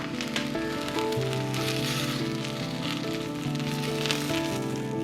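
Onion pieces toast in a pan for pho, giving a soft, steady sizzle and crackle beneath faint background music, with no one speaking.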